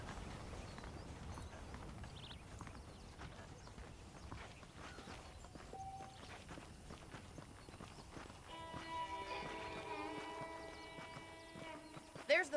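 Horses' hooves clip-clopping at a walk in the western video game Red Dead Redemption, a steady rhythmic clatter under faint ambient noise, with a brief whinny and some other game sounds near the end.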